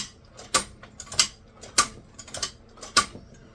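A leather stitching machine works through a chest holster in slow, separate strokes, each a sharp mechanical clack about every 0.6 seconds, close up and alone with no talk.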